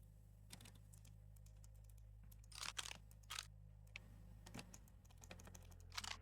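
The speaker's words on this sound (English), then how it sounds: "I'm using the keyboard." Computer keyboard keys are pressed while someone plays 7 Days to Die. The clicks are quiet and irregular, with a few louder clusters, over a low steady hum and no speech.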